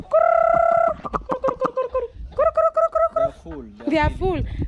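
Village hens cluck and squawk in short bursts at feeding time, close and loud, with a long drawn call at the start and busy clucking through the rest.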